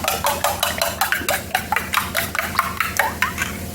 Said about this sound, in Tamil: ஆறு முட்டை உடச்சி ஊற்றிருக்கிறேன் இதை நல்லா கலக்கிறேன்